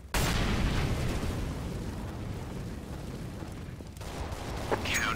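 An incendiary grenade burns in CS:GO with a loud, steady roaring whoosh of fire that starts abruptly and keeps going for several seconds, fading slightly near the end.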